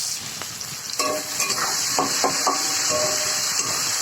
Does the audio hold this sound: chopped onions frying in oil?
yes